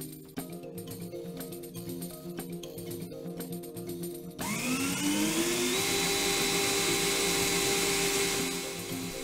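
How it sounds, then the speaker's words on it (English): Electric drill boring into an acrylic disc, with dish soap lubricating the bit. After a few seconds of quieter background, a loud steady whine kicks in and rises slightly in pitch, running continuously to the end. "I'm going to start drilling now."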